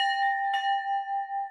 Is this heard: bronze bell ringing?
yes